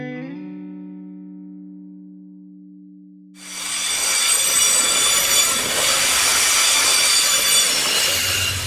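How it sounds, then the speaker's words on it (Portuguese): A Vale freight train carrying produce from Goiás toward Espírito Santo begins with a long horn blast, then rolls past loud and close, its wheels grinding and squealing in a continuous metallic rush. "Esse trem da Vale que está vindo aí, ele escoa a produção de Goiás"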